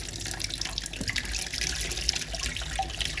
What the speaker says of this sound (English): the tap is not closing and the water is, as you can see